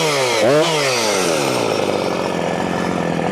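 Loud chainsaw cutting through a pine trunk while felling, the engine revving and dipping in pitch as the bar bogs in the cut, then holding a steady strained whine up close.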